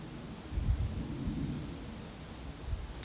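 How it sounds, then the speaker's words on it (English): Low rumbling thunder rolls through a thunderstorm outdoors, a couple of deep swells rising and fading over steady wind and faint rustle, fairly quiet and distant with no voices. "I don't like when it's thundering."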